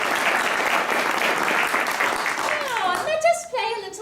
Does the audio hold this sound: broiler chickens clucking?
no